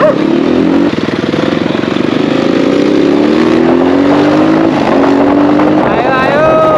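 A Suzuki RM250 two-stroke dirt bike on an off-road trail, its engine loud and close throughout, droning and revving with pitch sliding steadily upward, then rising sharply again near the end.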